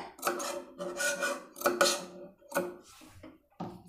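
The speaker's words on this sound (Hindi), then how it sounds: "ये सारे भाग को थोड़ा थोड़ा हम कट लगा देंगे" Scissors snip into blouse fabric during tailoring, making a series of short, close crisp cuts with small pauses between them, with no talking.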